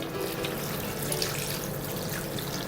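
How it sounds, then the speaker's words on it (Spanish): Water pours steadily into a paella pan for Paella Valenciana, a continuous loud splashing rush from start to finish. "Añadimos agua,"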